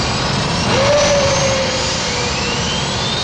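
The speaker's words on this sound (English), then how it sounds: "Time to start the engines." Jet airliner engines spinning up during a pre-departure start sequence: a loud, continuous roar with a turbine whine that rises and shifts pitch, heard up close without any voices.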